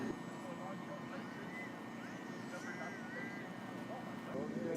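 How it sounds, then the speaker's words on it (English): A drone flies overhead at night, its steady whirring propeller drone holding throughout as a continuous, fairly loud hum with wavering pitch, while people talk over it. "Oh, and there's a drone."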